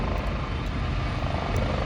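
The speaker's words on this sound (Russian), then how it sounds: "Такой межконтинентальный вертолет." Passenger helicopter flying between Spain and Morocco as it comes in to land at a heliport: a loud, steady rotor and engine roar with dense low-frequency thumping, continuous and close, with no voices.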